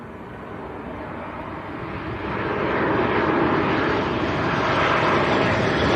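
An airliner on short final into Leeds Bradford Airport, its engine roar building steadily and growing louder and closer over several seconds, a broad continuous rumble with no voices over it.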